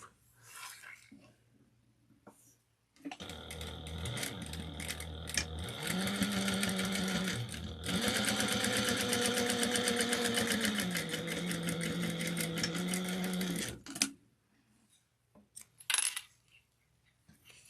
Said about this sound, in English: Then we're going to top stitch this at 1/8 of an inch right now.